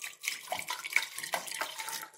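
Water poured into a pan to make sugar syrup for a milk dessert, a short splashing trickle with uneven bursts, close and fairly quiet.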